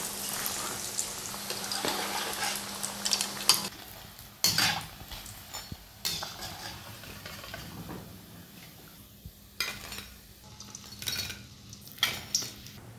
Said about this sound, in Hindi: बॉल्स को हम फ्राई कर रहे हैं।